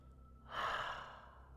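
A single breath let out through the mouth during a calm yoga session, a soft airy exhale that swells briefly and fades, close to the microphone with no talk.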